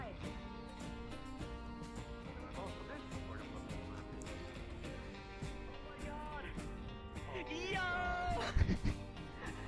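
Cats meow outdoors amid a busy mix of voices and background music, with a louder, wavering meow near the end rising over the chatter.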